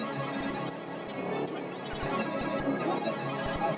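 Melody processed with a Gross Beat preset, a dense warbling pad chopped by stuttering volume gates with sparse low thumps underneath, moderately loud and continuous, no talk.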